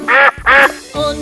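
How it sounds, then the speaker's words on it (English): Cartoon duck quacks in a children's nursery rhyme song: two loud, drawn-out nasal quacks in quick succession, followed by a softer, lower tone. "The duck says quack."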